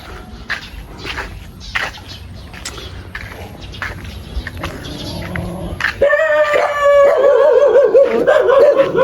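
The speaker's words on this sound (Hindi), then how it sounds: "ये ना कुत्ते हैं काफ़ी यार, मुझे ना बहुत डर लगता है इन कुत्तों से ना" Several dogs bark and yip repeatedly, some near and some farther off, then a dog breaks into loud, drawn-out howling toward the end.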